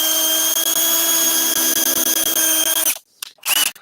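A power drill with a small bit bores a hole in wood, a loud steady whine for nearly three seconds, then stops and gives two short bursts.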